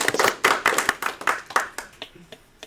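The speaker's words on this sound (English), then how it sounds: "Very silent clapping because I can't hear you" An audience applauds at the close of a talk on narrative level design in VR, with dense, close, rapid clapping that thins out and softens toward the end.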